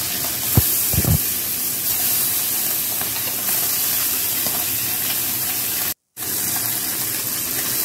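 Kajoli fish frying in hot oil, a loud continuous sizzle with a few sharp crackles and spits near the start and a brief dropout near the end.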